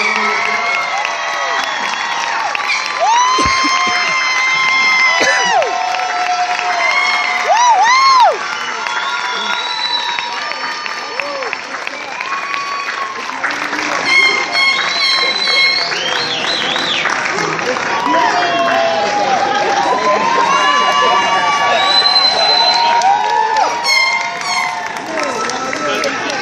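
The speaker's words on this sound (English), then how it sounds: "Please give a big round of applause." A graduation crowd for the ITT Technical Institute class of March 2016 in Duluth, Georgia, cheers and applauds loudly and steadily, with high whoops, whistles and shouting voices rising over continuous clapping throughout.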